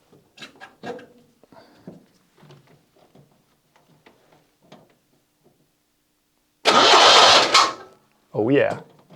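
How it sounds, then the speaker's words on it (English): Someone talks quietly, then a Citroen 2CV engine is cranked by its starter in two bursts, a longer whirring grind followed by a shorter one. "test if the starter engine can turn the engine over"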